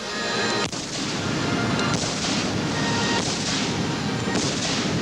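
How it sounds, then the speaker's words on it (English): Black-powder cannons fire during a stage performance by a cannon maker and concussionist: loud booming blasts, a few seconds apart, each followed by a long rolling rumble. "When the smoke clears and all 16 shots have been fired, Paul's job is done"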